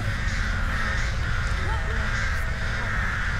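Crows caw several times in the horror game Dead by Daylight, faint calls beneath a loud, steady game soundscape with a low rumble throughout, while a player talks over it.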